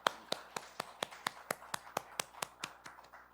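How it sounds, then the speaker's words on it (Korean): Congregation in a church worship service clapping together in a steady rhythmic beat, about a dozen sharp even claps at a brisk tempo, fairly close and moderately loud with no voices over them. "우리 하나님께 감사와 영광의 박수 올려드리겠습니다"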